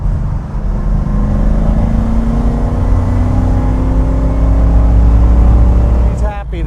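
A loud V8 engine in an Aston Martin V8 Vantage roars steadily as the car accelerates hard in third gear, its pitch climbing gradually, then dropping abruptly near the end.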